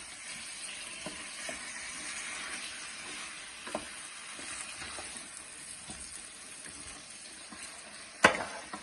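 A tin of tomatoes going into a sizzling pan for slow-cooked beef short ribs, heard as a continuous moderate frying hiss with scattered light clicks and a single sharp clank near the end.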